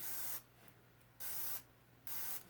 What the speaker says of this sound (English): So I'll just spray a little bit in there